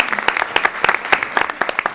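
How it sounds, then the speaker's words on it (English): Dense applause from the audience at a school committee meeting in a well-filled room, with sharp overlapping claps at close range and steady volume throughout, no talking. "We can applaud for the room."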